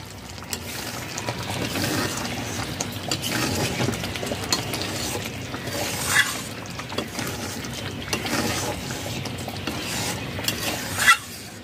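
A vegetarian okra curry made without onion or garlic is stirred in a pan, with irregular scraping strokes over a soft, low sizzle and a sharper knock of the utensil near the end.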